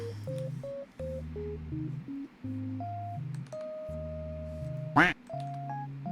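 Duck quacks sound in a quick stepped series of short, tonal calls, followed by a sharp louder burst near the end, clear and close with no speech over them.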